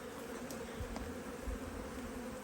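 Honey bees in a HiveIQ hive hum in a steady, low, continuous buzz, close and fairly quiet, with a few brief clicks and no voices.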